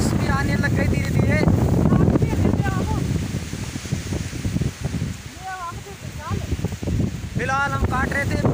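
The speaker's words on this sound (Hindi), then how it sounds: "मौसम बहुत ही ज्यादा खराब हो गया, हवा चल रही है" Blustery wind rushes steadily across the microphone in a field during a millet harvest, with light rain beginning and brief voices or calls cutting through the noise now and then.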